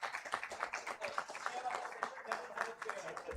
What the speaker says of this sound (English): a huge round of applause for our incredible panel